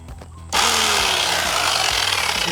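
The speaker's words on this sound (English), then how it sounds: "my tool becomes a chisel, which will be easier" After brief quiet with a few taps, a power tool used as a chisel roars into loud continuous hammering against a hard spot during a pool heater installation, close and harsh, sustained without a break.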